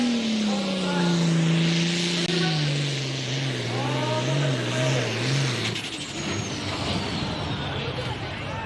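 A pulling tractor's engine revs hard at a farm tractor pull in Lynchburg, Virginia, its pitch climbing and wavering loudly over a steady roar, with a faint announcer voice in the background.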